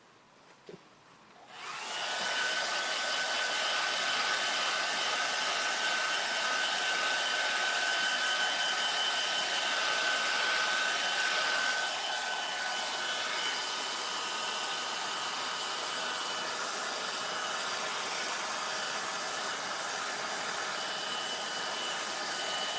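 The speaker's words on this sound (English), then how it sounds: "Now I'm gonna hit it with a hairdryer again." A hair dryer switches on after a brief pause and runs as a steady, loud whooshing roar while drying a painted furniture finish, easing slightly in level partway through and continuing without talk.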